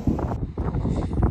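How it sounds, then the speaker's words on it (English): Strong wind buffets the microphone in rough, rumbling gusts, a low roar that rises and falls throughout, outdoors during an Audi A4 Wagon LED tail light installation. "It's super windy today for some reason."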